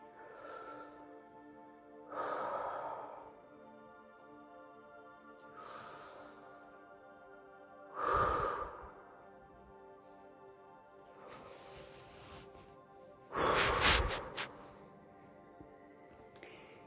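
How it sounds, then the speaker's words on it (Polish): Slow deep breaths during a guided meditation, about five or six separate inhale-exhale swells spaced a couple of seconds apart, close and soft over a quiet sustained musical drone. "I trzy razy oddychamy."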